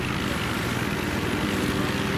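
Helicopter in the video game Battlefield 3: a dense, continuous rotor and engine roar, loud and close, filling the whole short moment without talk.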